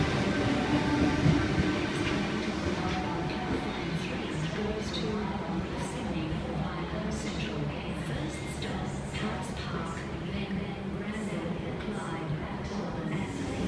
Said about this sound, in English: Here we have T59 arriving into platform number 3, North Sydney service.